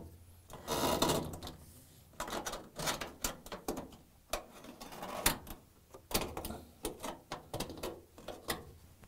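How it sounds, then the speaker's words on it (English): Drain hose being pulled out of a Samsung washer cabinet, heard as close, uneven rubbing, scraping and knocking of hose against the metal and plastic cabinet, with irregular clicks and bumps and no talking. "And then I'm going to remove it from the washer cabinet."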